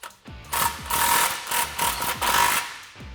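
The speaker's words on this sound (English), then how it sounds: "with the 15mm deep socket, we're gonna tighten this clamp down" Ratchet on a 15mm deep socket tightening an exhaust clamp on a 2015-2018 Ford F150 5.0L Borla Stinger S-Type dual system, heard as a series of rapid, close clicking bursts with short pauses between strokes.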